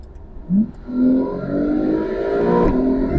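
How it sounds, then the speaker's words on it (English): A Porsche turbo sports car engine revs hard, its tone climbing steadily before a gear change near the end, loud and close with no talking. "I'm going to press this button now and you'll hear the car."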